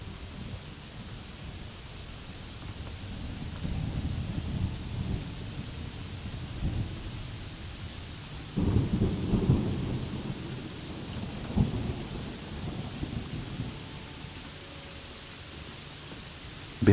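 Steady rain with rolling thunder in a calm meditation soundscape; a constant wash of rainfall underlies low rumbles that swell around the middle and again near the end, with no voices.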